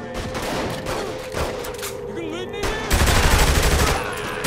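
A gunfight in Saints Row: The Third erupts in dense, loud, continuous automatic fire and overlapping shots, heavier in the last seconds, with voices speaking over it.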